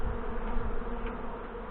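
Honey bees buzzing at a hive after a robbing attack, a dense continuous drone close by with no breaks and no talk.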